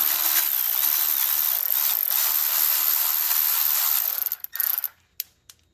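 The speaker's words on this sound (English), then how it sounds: "These bolts aren't torqued very high, so a 12 volt right angle is easy to get them off with." A 12-volt right angle ratchet loosens transmission pan bolts on a Ford Focus, giving a loud, continuous whirring buzz for about four seconds before breaking into a few short bursts and stopping.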